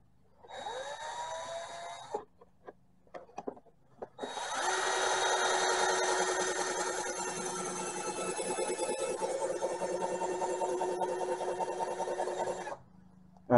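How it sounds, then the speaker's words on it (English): A power drill drilling pilot holes whirs briefly in short starts, then runs steadily for several seconds at a high pitch before cutting off. "now we're putting pilot holes in the side"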